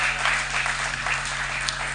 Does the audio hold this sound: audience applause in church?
yes